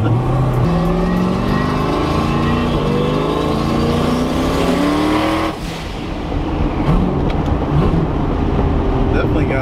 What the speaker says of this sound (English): I just drive around like it's an SRT4 with a blow-off valve and just hit everyone with it